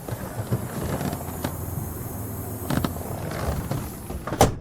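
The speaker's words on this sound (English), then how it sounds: "That is the tire leaking air." Steady faint hiss of air escaping from a leaking tire on a parked Volvo with a bent frame, with a few soft clicks and a sharp knock near the end.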